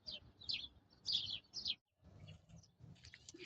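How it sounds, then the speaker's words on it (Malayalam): Many small birds chirp in a village on a quiet morning, faint quick tweets in short repeated bursts over soft low background noise. "ചെറിയ ചെറിയ കിളികളാണ്, കണ്ടമാനം കിളികൾ."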